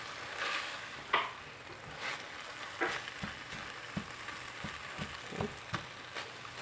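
Onions frying in a pan with leftover chicken and rice, a soft continuous sizzle broken by regular scraping and tapping strokes as the mixture is stirred and broken apart.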